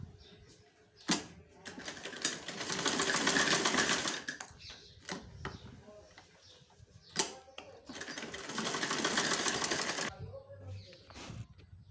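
A sewing machine stitches pieces of an Afghani salwar together in two sustained rattling runs, each a few seconds long, with handling clicks and pauses between them.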